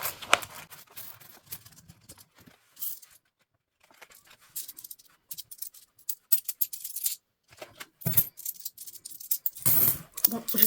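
Coins, including small copper ones, clink and jingle as they are handled and dropped, coming in irregular bursts of close metallic rattles with quiet gaps between.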